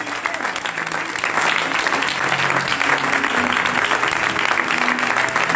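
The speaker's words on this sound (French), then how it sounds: "Est-ce que quelqu'un peut acclamer Jésus?" A church congregation claps loudly and steadily to acclaim Jesus, a dense wall of applause sustained throughout with faint crowd voices mixed in.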